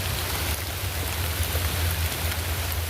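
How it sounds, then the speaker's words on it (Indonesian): Light drizzle falls at dusk near the Cangar bridge in the forest on the Mojokerto–Batu border, a steady, even hiss of rain that continues unbroken throughout, with a low constant hum underneath. "Suasana hujan gerimis sore menjelang senja di seputaran jembatan Cangar yang berada di hutan perbatasan Mojokerto dan Batu."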